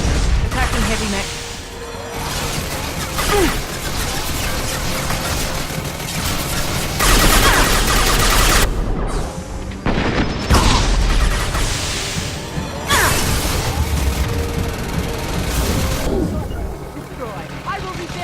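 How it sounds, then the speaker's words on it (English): A heavy mech attacks with dense, rapid gunfire and crashing blasts in Mass Effect 2 on Xbox 360. The loud bursts run almost nonstop, with a voice heard now and then under the din. "Attacking heavy mech."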